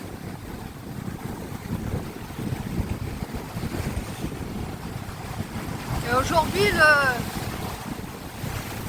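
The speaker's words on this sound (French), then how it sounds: "le temps est venteux et gris" Steady wind buffets the microphone throughout on a grey, windy beach on the west coast near Sagres, with someone speaking briefly in French partway through.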